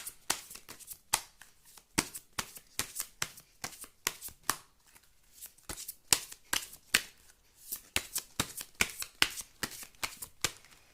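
Tarot cards shuffled close up, a quick series of sharp riffling snaps and slaps in an uneven rhythm, alone and fairly quiet.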